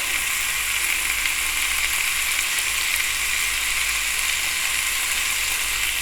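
Beef seekh kebabs fry on a hot pan over a stove, giving a dense, continuous sizzle that stays loud and even throughout, close up with no talking or other sounds.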